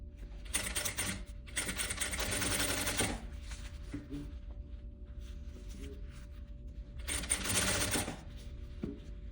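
Sewing machine stitching a vest in several short bursts of rapid clattering separated by pauses with faint handling sounds, close and fairly quiet over a low room hum.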